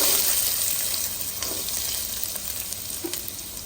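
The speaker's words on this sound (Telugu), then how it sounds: "ఇప్పుడు ఆయిల్ వేసుకొని దీంట్లో సన్నంగా కట్ చేసుకున్న ఎర్రగడ్డలు వేసుకోవాలండి" Thinly sliced red onions fry in hot oil, giving a loud, continuous sizzling hiss with small crackles and pops that fades slightly over time.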